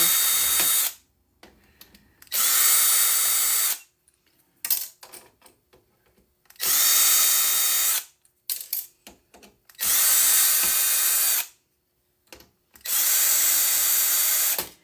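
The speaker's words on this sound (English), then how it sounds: "I am using an impact wrench" Impact wrench driving screws out of old computers during scrapping, firing in four long loud bursts of a few seconds each, with quieter clicks and handling clatter of parts between them.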